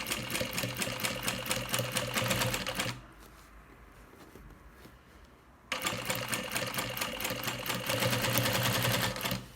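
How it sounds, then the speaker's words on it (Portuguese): A sewing machine stitches a baby stroller bag in fast, even bursts, pausing for a few seconds of quiet handling before running again, near and loud. "vou costurar mais um pouco"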